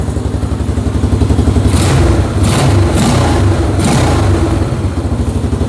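Honda Moto 4 ATV engine running steadily with the choke off, a loud close single-cylinder chug with a few quick throttle blips and revs rising and falling.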